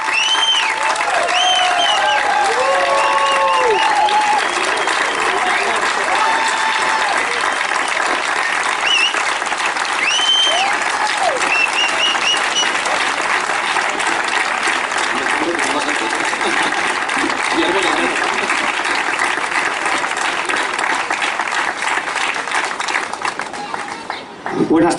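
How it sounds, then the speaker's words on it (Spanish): Loud, sustained applause and cheering from a large crowd at an outdoor political rally in Madrid, steady for the whole stretch with whistles and shouts mixed in, easing slightly near the end. "Un enorme aplauso para los dos cabezas de lista más grandes que tiene este país."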